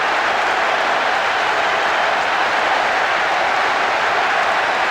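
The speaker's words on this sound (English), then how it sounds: "The capacity crowd are enjoying the goal celebration." Simulated stadium crowd noise in the football game PES 6 forms a loud, uniform roar of applause and cheering that holds completely steady without variation for the whole stretch.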